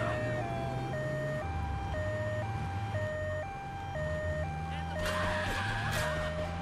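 A two-tone ambulance siren in Grand Theft Auto 3 wails steadily, stepping back and forth between two pitches over a car engine and game noise, with a brief louder burst near the end.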